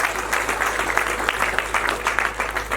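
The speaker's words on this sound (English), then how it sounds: "Let's clap hands again for the General Manager." A crowd at an agricultural vegetable field day claps for a general manager, giving brisk, continuous applause heard fairly close over a steady low electrical hum.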